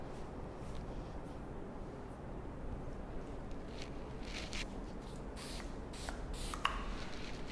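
Texturizing hair spray misted onto short-cut curly hair in a salon, a steady soft hiss running throughout, broken by a few sharper spurts near the end, with no talking.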